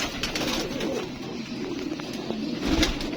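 Several pigeons coo softly and repeatedly close by at a rooftop pigeon loft in Karachi, a steady murmuring chorus with no talking.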